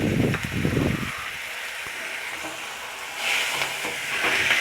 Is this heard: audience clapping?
no